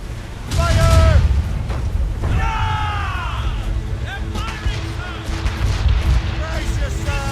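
Naval cannons firing from sailing ships in Assassin's Creed Rogue, heavy booming blasts with rumbling tails amid shouted voices and battle commotion.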